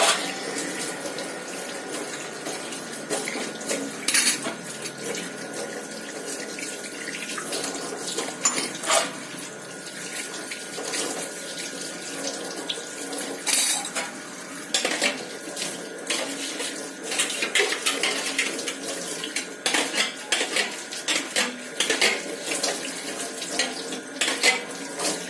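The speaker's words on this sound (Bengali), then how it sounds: "ঠাকুরটা ফ্রেশ করে ধুয়ে নিয়ে" Running tap water splashes steadily over a deity idol being rinsed clean, a continuous hiss of flowing water with small clinks and bumps, close by and without talk.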